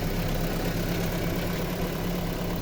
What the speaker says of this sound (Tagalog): Ang ganda ng makina.